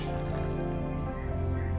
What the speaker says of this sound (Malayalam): ഞാൻ ഇത്തിരി വെള്ളം കൂടി ചേർക്കും.